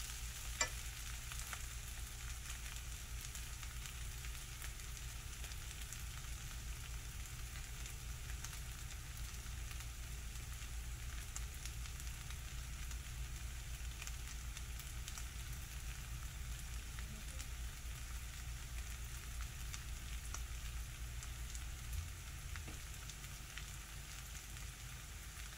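Micecito with New Mexico green chile sizzles and toasts in a pan, a steady, dense crackling fry that runs continuously and close, with a faint clink near the start and no talking.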